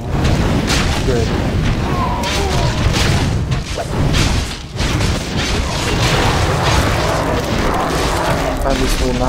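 Units in a strategy game pound a base with sustained fire, a dense, loud, continuous barrage of booms and impacts rolling on without pause, under a voice.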